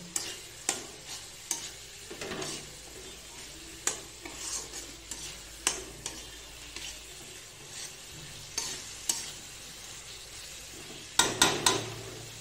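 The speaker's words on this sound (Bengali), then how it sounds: "আলুগুলিকে মানে আর একটু মশলার সঙ্গে একটু কষিয়ে নেব" Potatoes being sautéed with spices in an oiled pan, a low continuous sizzle punctuated by sharp, regular scrapes and knocks of a spatula stirring, with a quick cluster of louder clatters near the end.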